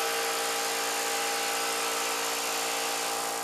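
A vacuum pump runs steadily under a lowered platen on a membrane press, giving a loud, even mechanical hum with a high whine that holds without a break from start to finish.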